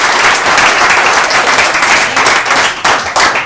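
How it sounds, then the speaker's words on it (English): A saloon audience at a Wild Bill show and assassination reenactment at the No. 10 Saloon in Deadwood applauds the cast, steady loud clapping from many hands filling the room, with a few sharper surges near the end. "Now I'd like y'all to give a nice big round of applause for all our little cast of players here."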